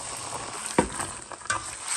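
Saffron strands being stirred into moong dal halwa cooking in ghee in a pan, a continuous close sizzle with soft scraping strokes of a spoon and a couple of louder scrapes.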